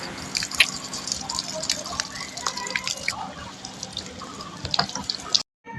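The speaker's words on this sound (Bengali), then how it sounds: "আর আমি এখন এদিকে জল ভরছি।" Water runs from a tap into a container, a continuous splashing flow with drips and small clinks, close by, ending abruptly.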